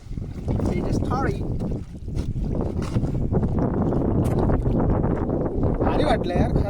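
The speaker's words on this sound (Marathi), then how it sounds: "थोडा मधीच पाणीचा खोल असत ते जाऊया आपली होडी घेऊन" A small wooden rowing boat moves out onto deeper water near a village, with water sloshing and wind buffeting the microphone while people talk over it.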